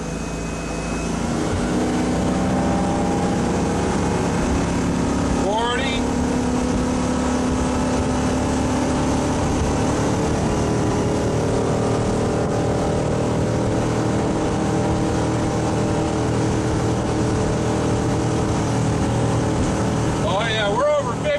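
A 2006 Crownline 230 LS motorboat engine drones loudly and steadily, its pitch rising briefly now and then as the throttle is pushed, with a voice speaking over it.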